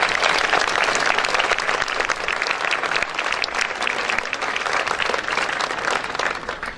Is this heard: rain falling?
no